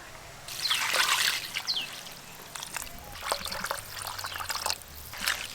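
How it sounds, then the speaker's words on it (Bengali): Dried cabbage is squeezed and rubbed in a bowl of water, producing close splashes, drips and trickles in irregular bursts, with louder sloshing near the start. "এবার কিন্তু জল দিয়ে চটকে চটকে খুব ভালো করে ধুতে হবে।"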